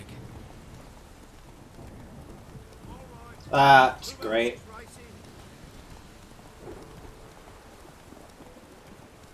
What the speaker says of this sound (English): It is thundering and lightning out